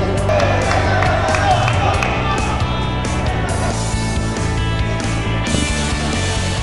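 A crowd cheers and shouts at a police academy MMA competition in Kabul, a steady loud roar of voices with whoops and some clapping running throughout.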